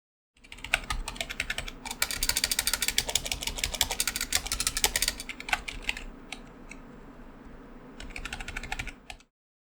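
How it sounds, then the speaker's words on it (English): Fast, steady keystrokes on a Tt Esports Challenger Elite RGB membrane gaming keyboard, dense soft clacks in continuous bursts with a brief slower patch midway, close and clear with no talking. "Here is the typing test."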